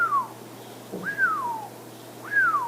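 A person whistles an imitation of a bat's downward echolocation chirp: three clear, close, descending whistled sweeps, each under a second, spaced about a second apart with no other sound.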